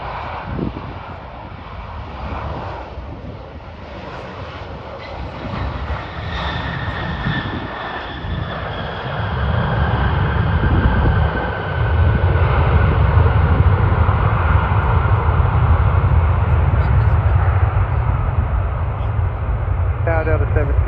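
An airplane comes in to land on runway 12 right at Minneapolis airport, its engine roar building from a distant whine to a loud, sustained rumble as it passes close by.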